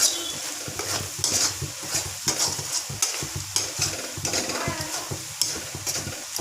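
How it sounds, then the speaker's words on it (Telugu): Mutton fries in a pan with masala, sizzling under repeated scraping strokes of a stirring spoon, close and fairly loud. "మటన్ కూడా వేసేసి కొద్దిగా వేయించుకుందాం కొంచెం మసాలా పట్టేంత వరకు"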